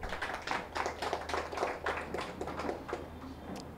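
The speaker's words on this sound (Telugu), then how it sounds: "గట్టిగా చప్పట్లు కొడదాం." Clapping from a crowd at a district in-charges meeting in an office, steady dense applause holding for several seconds before thinning out near the end.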